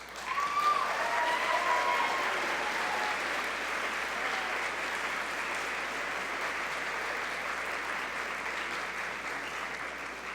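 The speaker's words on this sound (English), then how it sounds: "a big round of applause for our class of 2024" Steady, sustained applause from a banquet crowd honoring the class of 2024 at a senior banquet, a dense wash of clapping that swells early and holds evenly throughout.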